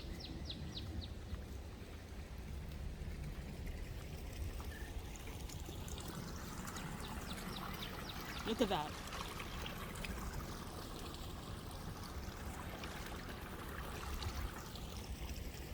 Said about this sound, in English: It's been raining all day, and you can hear the creek.